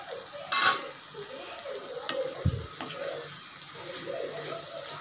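Mushrooms sizzling and being stirred in a pan, a steady low frying hiss with a few scraping stir sounds, close by.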